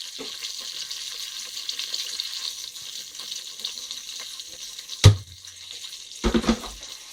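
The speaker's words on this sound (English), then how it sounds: "So this goes into the pan with the jeeru." Cumin seeds (jeeru) frying in a pan give a steady, fairly quiet crackling sizzle, broken by a sharp clunk near the end and a short burst of knocking just after.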